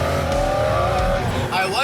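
Loud car engine hum and drone continues steadily, with a sharper rising engine note near the end, while people talk over it.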